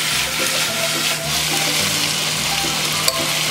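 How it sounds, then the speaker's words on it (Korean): Ingredients stir-fried in plenty of oil in a studio kitchen, a steady close sizzle and hiss with a faint low hum underneath, unbroken for a few seconds. "기름을 충분히 자, 이거를 잘 볶아주세요."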